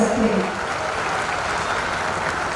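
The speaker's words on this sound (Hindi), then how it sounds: "आप सब तालियों के पुष्पों से स्वागत कर सकते हैं।" Audience applause greeting guests at a Gandhi Jayanti cultural programme, a steady wash of clapping from a crowd heard throughout, fairly even in loudness with no clear pauses.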